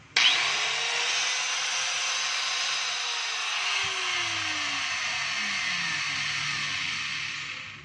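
A Black & Decker KG15 4-inch angle grinder, an older model, spins up to a steady high whine and holds it, a faint low drone beneath, with no cutting or talking.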